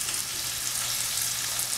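Close, steady sizzle of saltfish, dumplings, potatoes and carrots frying in a pan for ackee and saltfish, a dense uninterrupted crackling hiss with no voices.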